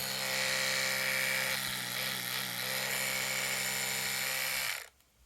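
A repaired Oral-B Pro electric toothbrush, its AA battery replaced, hums steadily and loudly for nearly five seconds alone before switching off abruptly near the end.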